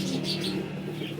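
Domestic pigeons of a high-flying breed coo in a steady, low, throaty murmur that continues unbroken throughout, with faint chirps and a hint of wing flutter mixed in, and no talking.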